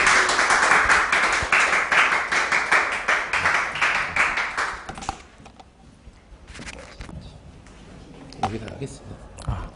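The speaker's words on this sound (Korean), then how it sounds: "그래서 박수 좀 부탁드릴게요." Audience applause at an English-language information session for college entrance exam prep, a dense, loud clatter of many hands for about five seconds, then fading into quieter room noise with scattered small knocks.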